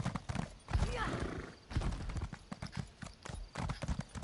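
A horse galloping in The Elder Scrolls Online, rhythmic hoof clip-clops with a whinny, mid-level and close, running under a voice talking over it.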